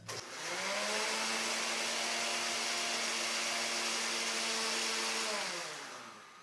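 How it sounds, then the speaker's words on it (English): Blender running on high speed while making hollandaise sauce, a loud steady motor whine that spins up quickly, holds for several seconds, then winds down at the end. "I've got to finish this off by going really high for a couple of seconds"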